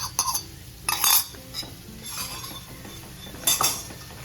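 Yogurt stirred in a cooking pan brings a series of metallic clinks and scrapes from a utensil against the pan, in quick irregular bursts separated by quieter stretches, close by and without talk.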